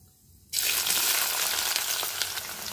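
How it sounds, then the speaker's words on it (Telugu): Onions dropped into hot oil with cumin for a fenugreek tomato curry, a sudden loud burst of sizzling that starts after a brief quiet moment and keeps up as a dense, close frying hiss. "ఇప్పుడైతే ఆనియన్స్ వేసుకుందాం,"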